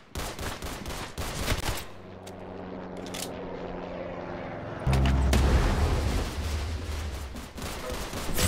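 Roblox Arsenal gunfire: dense rapid volleys of shots up close, a quieter stretch with a lingering hum and a few isolated cracks, then a loud heavy burst of firing that keeps going to the end.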